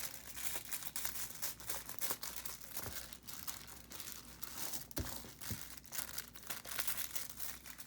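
Aluminium foil being wrapped and pressed flat around a card, giving quiet, close crinkling and crackling in irregular bursts with a few sharper crunches, no voices.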